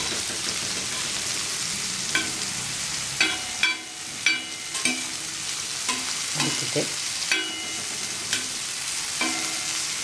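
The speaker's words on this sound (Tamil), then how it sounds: "கொஞ்சம் 2 கிளறி எண்ணெயில் இப்படி வதக்கிட்டு" Ingredients sautéing in hot oil, a steady sizzle broken by repeated scraping strokes of a spoon stirring in the pan, close and clear.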